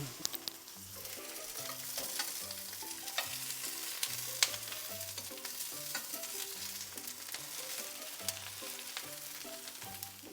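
Food caramelising in a hot pan, a steady sizzle and frying hiss that runs the whole time beneath louder background music with a clear melodic line.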